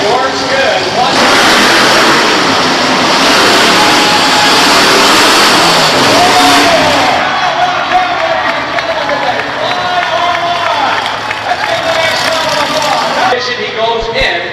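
BIGFOOT monster truck engine revving loudly during quarterfinal competition at a 1990 Louisville, Kentucky event, with a roaring arena crowd and an announcer talking over the engine noise.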